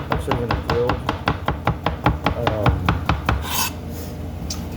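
Steady, rapid chopping of a knife cutting vegetables on a board for a classic medley, around sixteen crisp, evenly spaced strokes that stop near the end.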